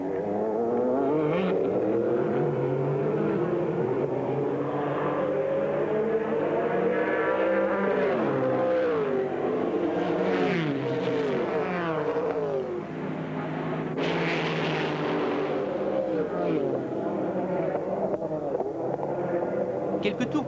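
Mercedes race cars dueling on a track in 1990, engines whining and shifting pitch as they rev and pass, under continuous commentary.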